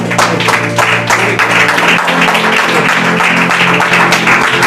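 A church congregation bursts into loud, sustained applause, dense clapping from many hands filling the room steadily with no speech on top.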